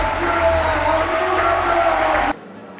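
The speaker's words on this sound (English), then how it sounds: "the crowd let him know he did a good job there" Spectators cheer and shout for climber Taisei at the men's lead climbing finals of an international Arkose competition, a steady dense roar of crowd noise that cuts off abruptly near the end.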